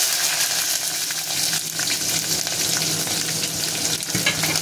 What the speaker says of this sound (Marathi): आपण आता कढीला तडका देऊन घेऊ. हिरवी मिरची लसूण सोबत टाकतो.